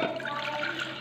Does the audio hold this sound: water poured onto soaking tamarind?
yes